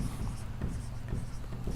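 Hand writing on a board or paper during a maths lesson on lines and rays, a soft continuous scratching with small strokes, close and steady, with faint speech in the background.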